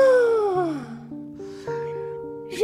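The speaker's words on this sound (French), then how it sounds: "dit en bâillant" A woman's drawn-out, falling yawn read aloud from Le Petit Prince, a voiced sigh-like moan that slides down, then wavers at a level pitch for a second and a half, ending on a short breathy catch.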